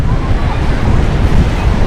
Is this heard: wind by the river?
yes